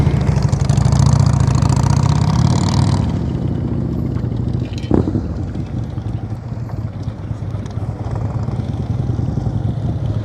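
A motorcycle engine runs steadily at low revs during slow-speed riding practice, a loud near drone that eases slightly after a few seconds, with a brief sharp knock midway.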